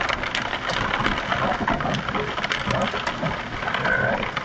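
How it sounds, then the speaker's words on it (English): Hail drumming on a vehicle while driving, a dense, irregular patter of many small impacts over a low engine hum, fairly close and continuous. "It's hail."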